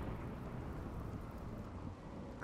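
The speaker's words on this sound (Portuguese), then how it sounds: "Ainda toma um raio ainda." Rain and thunder during a storm in the video game Rimworld, a steady dense rain hiss with a low rolling rumble underneath, fairly faint and continuous, no voices.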